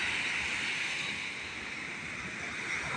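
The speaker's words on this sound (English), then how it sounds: "Anybody who wants to see the waves, hear them, just really loud." Waves crash on a windy Lake Superior beach at night, a steady loud roar of surf blended with gusting wind and microphone buffeting, continuous throughout with no voices.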